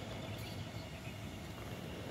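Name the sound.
light rail train, Taipei Metro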